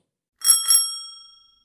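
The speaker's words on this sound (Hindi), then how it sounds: "तभी साइकिल की घंटी बजी" A bicycle bell rings twice in quick succession, bright and close, its metallic tone fading away into silence.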